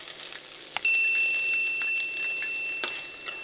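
Chopped onion dropped into hot oil in a pan, a soft steady sizzle with faint crackles and a small clink or two of a utensil, close and fairly quiet with no talking.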